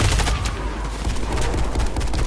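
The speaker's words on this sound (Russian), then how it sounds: "Кидаю гранату." Dense gunfire and bursts of automatic weapons fill a Warface multiplayer match, with a grenade thrown amid the continuous loud shooting and a possible blast buried in the steady barrage.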